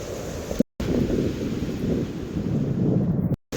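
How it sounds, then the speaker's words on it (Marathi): A monsoon waterfall on the Harishchandragad trail gives a steady, broad rushing roar close by, cut by two brief dropouts, with no voices. "असा आणखीन एक धबधबा आपल्याला दिसला आहे"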